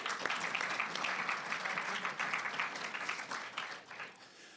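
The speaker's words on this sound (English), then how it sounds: "Round of applause for them" Audience applause at an AGDQ 2019 panel, a dense burst of many hands clapping that holds steady and then tapers off over a few seconds, with faint voices underneath.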